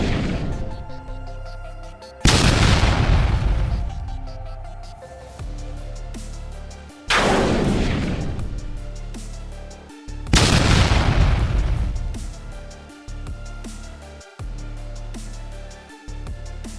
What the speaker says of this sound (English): a Leopard 1A5 tank from the 1st Tank Battalion of the 5th Separate Heavy Mechanized Brigade opened fire